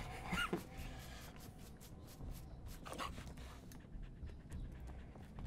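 Dogmeat, the dog companion in Fallout 4, pants in short, breathy bursts up close, with a few soft rustles around them and no talk.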